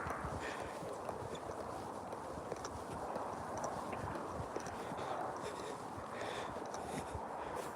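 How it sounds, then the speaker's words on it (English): Horses walking in an open field outdoors, their hooves clip-clopping in a steady irregular patter at moderate distance, with wind buffeting the microphone throughout. "We must see Azra's horsey friends in a moment."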